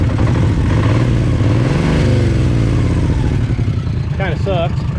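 Worn Kawasaki Mule utility vehicle with a blown head gasket idling roughly and revving, a loud close engine drone with a wavering pitch rise in the middle and brief squeaky chirps near the end.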